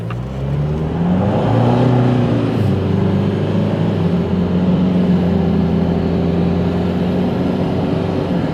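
A Nissan NP300 ute fitted with a throttle controller accelerates on light throttle, its engine droning in a steady, rising tone as it climbs through the gears, with loud road and wind noise inside the cabin.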